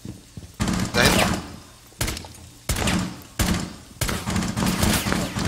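Rainbow Six Siege gunfire: several loud bursts of rapid shots, separated by short pauses, with players talking between the volleys.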